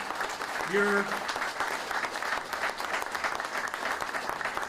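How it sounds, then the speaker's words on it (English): Steady applause from a crowd at a groundbreaking ceremony for a veterans home in Holyoke fills the space, continuous clapping at moderate volume, with a brief voice near the start. "A round of applause for each one of them."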